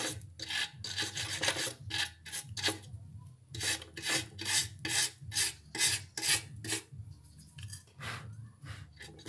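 Steady back-and-forth rasping of a glued patch being rubbed hard on a leaking motorcycle fuel tank, about a dozen close, loud strokes in an uneven rhythm with short pauses between bursts, no talking.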